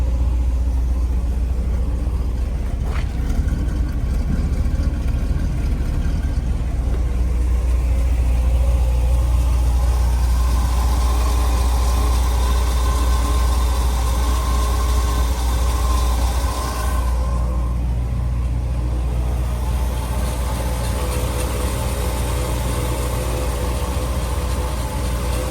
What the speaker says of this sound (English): Exhaust has a nice rumble, but it's not too loud.